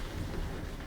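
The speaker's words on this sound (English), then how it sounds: "Storms like this put me right on the edge" A thunderstorm outside a desert diner, with steady rain and a low rumble of thunder filling the air, constant and fairly loud with no voices.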